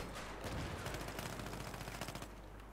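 Rapid automatic weapon fire rattles in a tight, steady stream of shots in Battlefield 3, close and continuous for nearly three seconds before easing off, with no voices over it.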